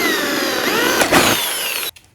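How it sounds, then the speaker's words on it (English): An electric drill bores a pilot hole for a jigsaw blade, a steady loud whine that runs for nearly two seconds before cutting off abruptly, with no talking. "drill a hole so our jigsaw blade will go in"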